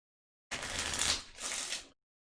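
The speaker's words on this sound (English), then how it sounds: "usually I'm doing my shuffle for shenanigans while we're talking to just kind of get everything where it needs to be" Cards being shuffled for the board game Deep Madness. Two close, crisp riffle bursts follow each other quickly, with a short pause between them and no voices.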